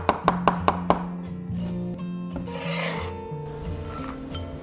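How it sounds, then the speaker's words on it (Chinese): Knife on a cutting board chopping smashed garlic into mince and a scallion into small rings: five sharp, evenly spaced chops at the start, then softer scraping and rasping of the pieces, close up with no talk. "准备几颗大蒜，先拍碎，切成蒜末。 一根香葱，切成葱花。"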